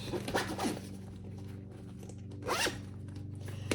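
A bag zipper is pulled in two separate bursts, a short rasp near the start and another about two seconds later, close and clear against a low background hum.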